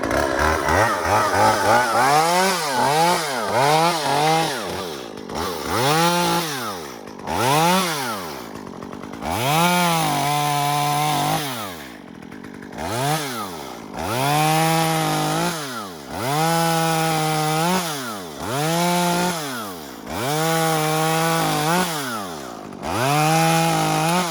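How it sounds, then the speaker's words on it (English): A loud chainsaw revs up and down repeatedly, engine pitch rising and falling in cycles as it cuts knots off a log for an off-grid cabin wall in Alaska, close by and continuous. "he's gonna knock some knots off of it first, so you're gonna hear the chainsaw again"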